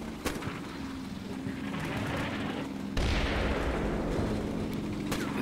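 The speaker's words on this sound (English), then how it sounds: "Airburst mortar starts striking center forest" Airburst mortar rounds striking a forest in the Combat Mission Shock Force 2 war game, a dense, continuous rumble of distant blasts and crackling bursts that swells louder partway through, with no voices.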